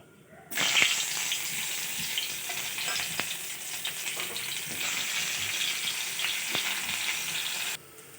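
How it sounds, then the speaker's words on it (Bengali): Bitter gourd hits hot oil in a kadai and fries with a sudden loud sizzle that settles into a steady crackling hiss, punctuated by occasional stirring clicks, then cuts off near the end. "কড়াইয়ে তেল দিয়ে দিয়েছি,"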